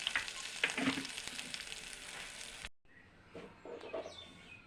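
Tempering spices and sesame seeds fry in a hot pan, crackling and sizzling loudly up close, then cutting off and resuming more quietly with light scattered pops; no talking.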